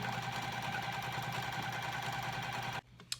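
A sewing machine stitches a quarter-inch seam on a mini box tote, a steady, dense mechanical whir running continuously and fairly close, then cutting off abruptly near the end with a brief click.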